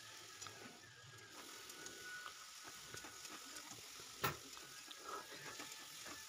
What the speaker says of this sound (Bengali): এই দেখো ভালো করে কষে নিচ্ছি তরকারিটা।